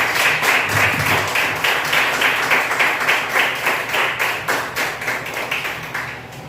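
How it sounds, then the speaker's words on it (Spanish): Congregational applause in a Spanish-speaking church after a sermon, loud, dense clapping that settles into a rhythmic unison beat and gradually fades near the end. "Denle un aplauso a Jesús."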